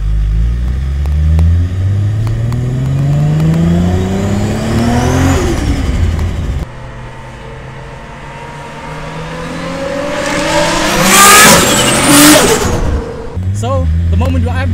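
Nissan Skyline GTR with 800 horsepower revs hard and accelerates in second gear, engine pitch climbing in loud sweeps heard from inside the cabin, with a brief lift and another surging pull.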